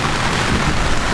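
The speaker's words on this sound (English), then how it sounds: "This is not how we like to spend thunderstorms." Thunderstorm at sea with rain drumming steadily on a sailboat, a dense, loud wash of rain and rumble filling the whole moment without a break.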